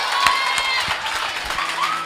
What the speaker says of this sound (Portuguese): vamos aplaudir que isso aí foi forte mesmo